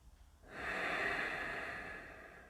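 A deep breath drawn in and let out during a calm yoga class, a single soft, airy rush that swells after a brief pause and slowly fades, close and quiet with no talking.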